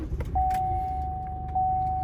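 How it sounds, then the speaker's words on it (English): A Chevrolet Colorado's 2.8 Duramax diesel cranks and catches close by, settling into a low, steady rumble with a thin, continuous chime tone ringing above it. "So it cranked 2 or 3 extra times, but otherwise fired right up"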